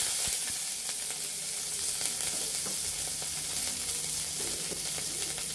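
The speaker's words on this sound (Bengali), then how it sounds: "এখন কাঁচা লঙ্কা আর একটা পেঁয়াজ কুচি এখানে ভেজে নেব।" Green chillies and chopped onion sizzle steadily in about half a teaspoon of oil in a kadai, a continuous close hiss with faint stirring scrapes and no voices.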